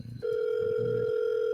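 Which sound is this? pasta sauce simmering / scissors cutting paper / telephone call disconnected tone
telephone call disconnected tone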